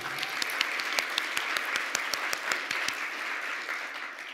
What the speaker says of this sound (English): we really want to give a round of applause to Craig and Franny for being our inspiration there.